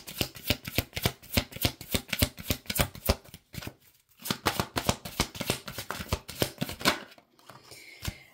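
Oracle cards are shuffled again and again in quick, crisp riffling bursts. After a short pause near the middle the shuffling starts again, and a card draw follows near the end. It is close and moderately loud, with no talking.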